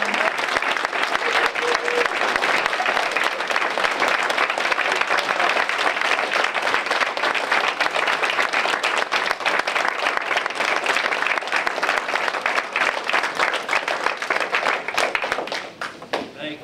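Audience at a graduation ceremony giving a standing ovation, dense sustained applause and clapping filling the room, loud and steady before tapering off at the end.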